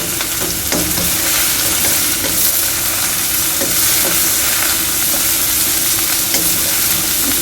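Okra fries in a pan while being stirred, giving a loud, steady sizzle with faint scraping from the stirring throughout. No voices are heard.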